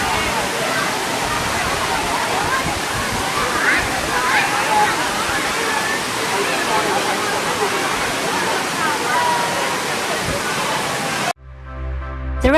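Steady broadband rush of a waterfall at Kanchanaburi, loud and continuous throughout, cut off abruptly near the end by a brief different sound.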